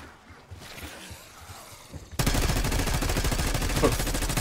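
Continuous rapid automatic gunfire in a Terminus zombies shooter game, a fast dense rattle that starts abruptly after quieter ambient noise and keeps going loud and close to the end.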